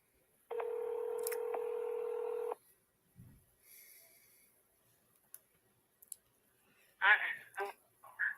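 Telephone keypad tones as a number is dialed to call someone back, a steady tone at first, then a few clicks and a short burst of DTMF beeps near the end, fairly close and clear with no talking.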